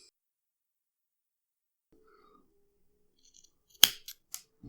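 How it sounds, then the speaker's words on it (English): Scissors snip cotton wick for a vape coil on a Valkyrie Mini RTA, with a few sharp, close cuts coming in quick succession after a quiet stretch. "I like to cut my cotton just slightly over the edge of the base"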